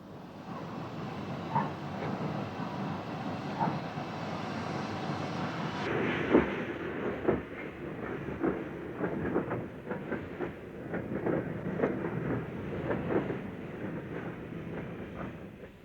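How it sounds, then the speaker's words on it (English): A Hudswell Clarke steam locomotive, number 1, hauls a heavy coal train up the incline from a colliery, giving steady labored rumble with repeated exhaust beats and clanking wagons, growing louder and busier partway through. "That power was required in lifting its heavy train up the incline from the colliery as it heads for the coal preparation plant"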